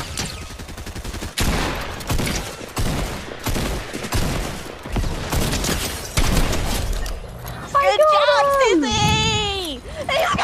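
Rapid, loud video game gunfire in close bursts and fusillades plays alongside excited talking and shouting from a young player, with a short screaming outburst near the end.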